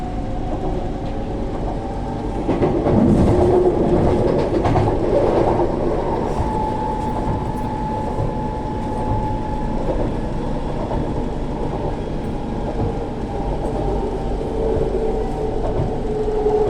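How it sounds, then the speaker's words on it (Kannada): A Namma Metro train runs between stations in Bengaluru, a loud steady interior rumble with a brief burst of clatter early on and a faint tonal whine throughout. "ರೈಲು ಈಗ ಜಯನಗರಕ್ಕೆ ತಲುಪಲಿದೆ."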